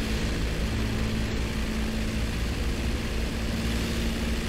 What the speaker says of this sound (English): So I hop in my Stuka.